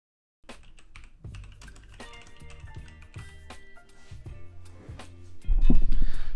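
Keys clatter on a computer keyboard in an irregular run of close taps, with a louder burst of clicks near the end and no talking.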